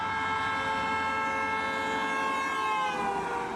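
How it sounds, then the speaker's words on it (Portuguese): A passing car sounds its horn in one long, loud, steady blare heard from outside, its pitch sliding lower near the end as the car goes by. "o carro passa emitindo som, passa buzinando"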